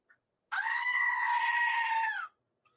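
Goat giving a single loud, drawn-out scream lasting nearly two seconds, close and isolated against silence.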